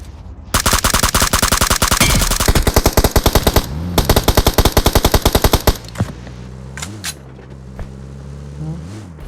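Rapid automatic gunfire in a scrims tournament video game match, long loud bursts of evenly spaced shots, followed by a few scattered single shots and vehicle engine noise.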